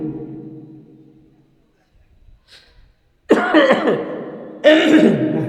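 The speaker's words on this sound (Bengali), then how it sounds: "কাশি উঠেছে।" A man coughs during an outdoor Islamic sermon, two loud harsh coughs in quick succession after a stretch of speech and a brief quiet pause, close to the microphone.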